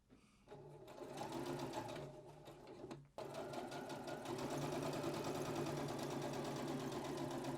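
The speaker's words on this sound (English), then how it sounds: "So you just let it run through the machine. Let the dogs walk and let your machine pull the fabric through." A sewing machine runs steadily, stitching the collar seam of a women's yukata kimono. Its motor hums and the needle chatters rapidly at close range, with a brief pause near three seconds before it starts again. No one speaks.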